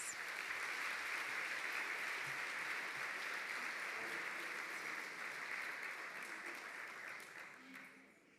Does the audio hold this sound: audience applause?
yes